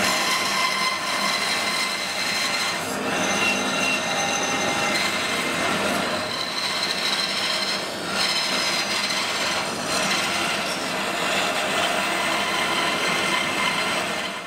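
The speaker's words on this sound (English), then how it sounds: "maybe I can trim that up on the bandsaw first" A bandsaw trims a block of wood for a wand, giving a steady, continuous rasping cut with a few brief swells, close and fairly loud throughout.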